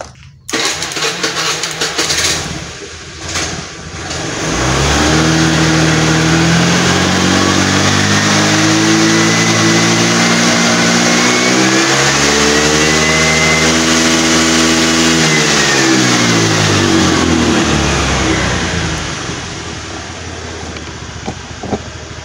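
A Honda Vario 110 carburetor scooter engine is started and revved, cranking briefly before settling into a loud steady idle, rising and falling through revs for several seconds, then easing down near the end.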